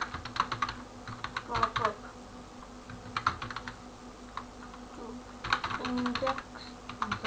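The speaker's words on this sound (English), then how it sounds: "I have to come here and type default" Keys clatter on a computer keyboard in quick bursts of rapid clicks separated by short pauses, close and fairly quiet, with a few soft spoken words in between.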